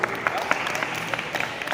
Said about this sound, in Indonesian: berikan tepuk tangan untuk kelompok 1 dulu